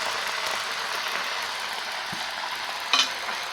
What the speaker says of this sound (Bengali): দিয়ে এখন একটু নাড়াচাড়া করে ভেজে দেবো